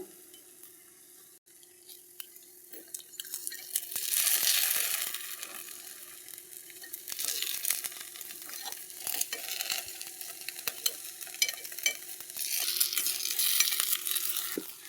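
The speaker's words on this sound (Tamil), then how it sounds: "இப்போ பணியாரத்தை திருப்பி போட போகிறோம்" Sweet paniyaram sizzle in a pan as they are flipped, with a continuous close frying hiss broken by clicks and light scraping taps.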